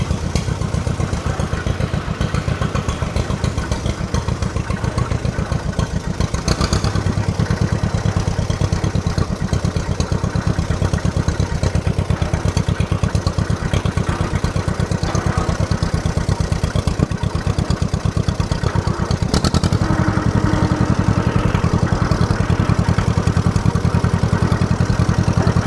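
An old tractor engine, being readied for the Southeast Old Threshers Reunion, runs loud and close with a steady clattering throb, its note shifting slightly partway through as the tractor drives along.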